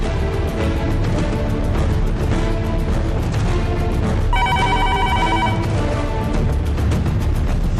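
A telephone ring sounds on an outgoing call, a short bright ringing burst partway through that stands out over dense, loud dramatic background music and clatter.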